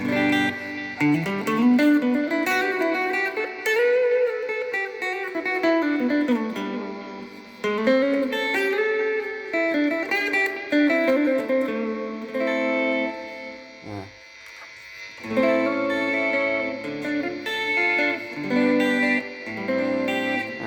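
An electric guitar plays a melodic solo line with a clean, slightly effected tone, bending and sustaining notes continuously at moderate loudness.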